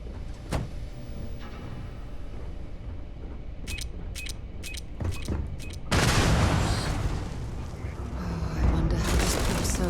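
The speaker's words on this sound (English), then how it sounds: "Let's use the shotgun" A shotgun firing in the Starfield space game on Xbox Series X blasts out loud, broad bursts with sharp clicks before it, the heavy wide blast taking over for the last four seconds over constant game background sound.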